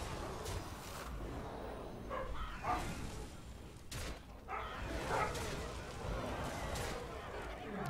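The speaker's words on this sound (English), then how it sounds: "Our dogs are very crazy." Dogs bark and yip in quick, scattered bursts over busy game sound effects in a Hearthstone Battlegrounds match, with steady noise underneath.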